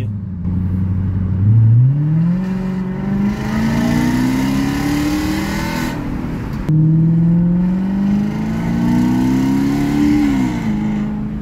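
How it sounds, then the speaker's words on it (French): Car exhaust line roaring through two long rising pulls, the engine note climbing steadily and loud nearby, a brief drop between runs, with no voices. "Le son de l'échappement, il est parfait."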